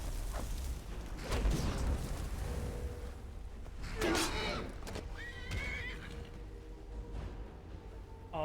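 A Daedric horse neighs loudly with a shrill whinny in modded Skyrim Special Edition, then a second shorter whinny follows, over a low rumbling game backdrop with hoof clatter.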